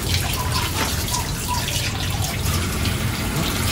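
Water flows steadily from a tap in an old abandoned house, a continuous close splashing and trickling with faint drips, moderately loud and alone without talk.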